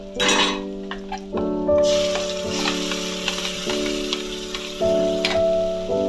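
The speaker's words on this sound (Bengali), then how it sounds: "এইভাবে সুন্দর করে নাড়াতে হবে না হলে কিন্তু কড়াইতে লেগে যেতে পারে" Utensil scraping and stirring bean paste in a wok with faint sizzling, steady clinks and scrapes over a low background hum and tonal music.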